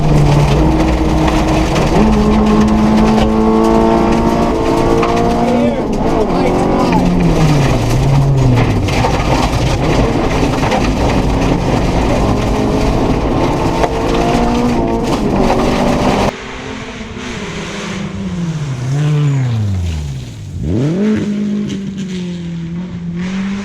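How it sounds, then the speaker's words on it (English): A rally car races flat out along a stage of the 2018 Show-Me Rally, heard loud and close from inside. The engine screams and revs up and down in repeated sweeps through gear changes, dropping briefly as the car brakes before surging again. "I was picking up a ton of confidence reading the roads and a ton of speed"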